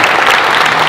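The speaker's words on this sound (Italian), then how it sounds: "facciamo un applauso grande a questi giovani" Loud, dense applause from an audience cheering young singers at a Christmas presentation event in Agliè, steady clapping filling the whole short moment without a break.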